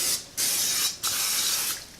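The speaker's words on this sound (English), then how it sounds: "to spray it up around the edges." Vegetable or canola cooking oil spray hissing around the edges of a pot, in two long bursts with a short pause between them, close and clear.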